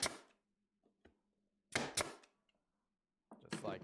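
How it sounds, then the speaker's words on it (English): A nail gun drives nails into 2x4 wood in sharp, close pneumatic bangs: one at the start, a quick pair in the middle and a final double shot, with near silence between them. "I'm going to shoot 2 nails in, just right here"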